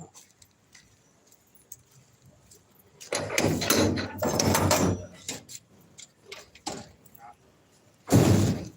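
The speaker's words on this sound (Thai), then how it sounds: "เปิดประตูให้เขาจะเข้ากัน" A door being opened at a village house, heard as a few loud rattling, clattering bursts with a quieter clunk and one more sharp burst near the end, over faint background noise.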